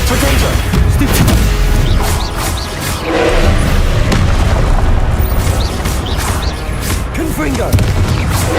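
Confringo fire spells exploding in the video game Hogwarts Legacy: repeated heavy booms and crashes under constant combat noise, loud and close, with a voice calling out spell names.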